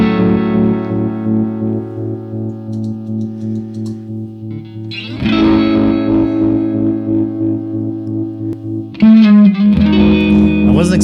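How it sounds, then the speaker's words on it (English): Sustained square-wave synth tone run through phaser and distortion-style effects, buzzy held notes with a shimmering sweep that shift pitch twice, loud and alone with no talking. "I wasn't expecting to like that square wave, but I love that sound."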